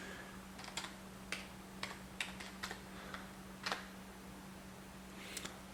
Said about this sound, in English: we can actually type pretty quick.